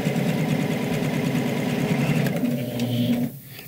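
A Janome Jazz II sewing machine stitching, a close, loud, steady mechanical whir with a rapid rhythmic pulse that slows and stops near the end.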